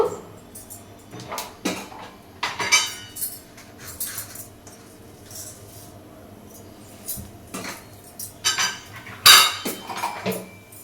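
Chana dal going into hot oil in a pan while cooking upma, heard as scattered clinks and light metallic clatter of spoon and cookware with brief sharper rattles, fairly close and moderate in level, no talking.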